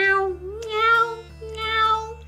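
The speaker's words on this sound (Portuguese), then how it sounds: "seu dono foi acordado com barulhos de miados" A cat meows loudly and close by, a long drawn-out call followed by two more rising and falling meows, with no voices.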